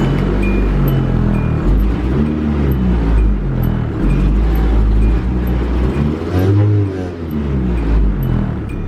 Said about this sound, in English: We can start this vehicle up.